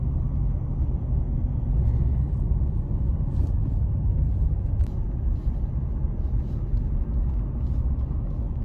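Car cruising along a road on a long drive, a continuous low rumble of engine and tyre noise heard from inside the vehicle, steady throughout with a few faint clicks.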